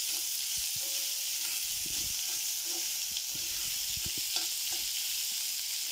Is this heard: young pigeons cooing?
no